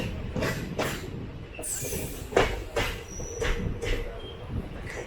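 The Kochuveli–Porbandar express, train 20909, rolls into Vallapuzha station with a rhythmic series of wheel clunks over rail joints and rumbling carriage noise, heard from aboard, with a brief squeal and some faint voices.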